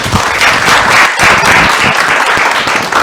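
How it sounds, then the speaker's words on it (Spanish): Loud, sustained audience applause at the close of a talk show segment, dense clapping from a full crowd filling the whole stretch with no speech over it. "les pido un fuerte aplauso para Mayra."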